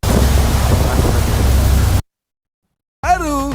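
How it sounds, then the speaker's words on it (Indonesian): Strong wind and rain during a frightening storm roar as a loud, dense wash of noise for two seconds, cut to silence, then a voice speaks over continuing rushing noise. "Banyak sekali angin."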